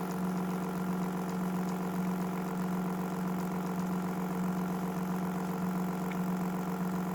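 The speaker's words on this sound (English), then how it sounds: "unit comes up to speed and runs an RPM that will be pretty much set" DK 1-series power hub engine running steadily at a set speed of around 460 RPM, a constant droning hum with a strong low tone that holds unchanged throughout, close and with no voices.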